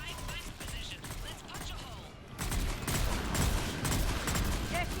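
Video game gunfire crackles in rapid, overlapping volleys that grow louder and denser halfway through, while a voice talks over the shooting.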